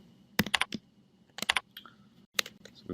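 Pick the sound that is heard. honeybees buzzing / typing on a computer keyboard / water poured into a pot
typing on a computer keyboard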